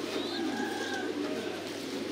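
Soft pigeon coos and faint calls drift through a pigeon loft built in the Thai style, quiet and a little distant over a steady background hum.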